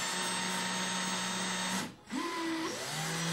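A power drill spinning a carburetor float assembly whirs steadily, briefly cutting out for a moment before spinning up again with a rising whine.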